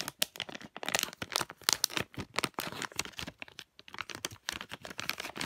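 Shiny plastic packaging of a Squish Dee-Lish squishy torn open along its tear strip, a close, busy run of crackling rips and crinkles in quick uneven bursts with brief pauses, no voices.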